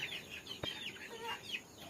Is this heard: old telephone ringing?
no